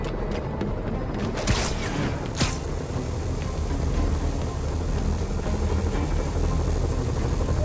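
A steady, loud mechanical helicopter drone in the video game Marvel's Spider-Man fills the whole stretch, with a couple of sharp bursts early on and no talking.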